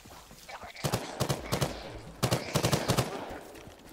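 Bursts of rapid gunfire ring out in a PvPvE shooter game, two loud volleys of quick repeated shots separated by a short pause, close and dominant.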